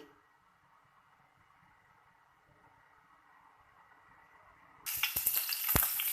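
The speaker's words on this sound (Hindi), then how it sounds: "ये हमने ऑयल के अंदर डाल दी है प्याज।" Chopped onions dropped into hot oil, a faint low hum that suddenly bursts into a loud, hissing sizzle with crackles and a heavy thump near the end.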